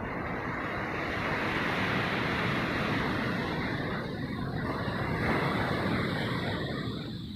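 Ocean surf breaks on a clean beach at Sigata Island, Nias, a steady loud wash of waves mixed with wind rumble on the microphone, with no voices.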